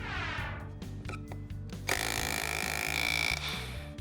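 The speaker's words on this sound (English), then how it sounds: "It can hammer in a nail just like that." A cordless auto hammer driving a nail, rattling rapidly with repetitive mechanical impacts, loud and close, the pitch rising partway through as it drives in.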